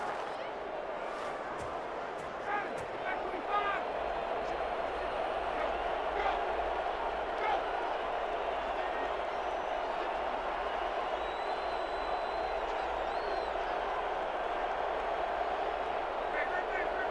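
Stadium crowd noise in the American football game Madden NFL 21, a steady, broad roar of a home crowd running continuously, with faint bursts of cheering and clapping and occasional talk over it.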